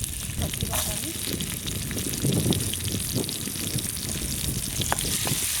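Green peas frying in hot oil with mustard seeds and cumin give off a steady, dense sizzle, with occasional stirring scrapes and a low murmur underneath.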